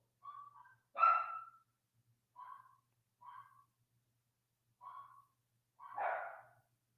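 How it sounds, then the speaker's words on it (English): Several separate dog barks at moderate distance, six in about seven seconds with uneven gaps between them, the second and last louder and rougher, with no voices present. "Man, these dogs."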